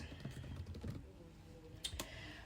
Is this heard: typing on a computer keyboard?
yes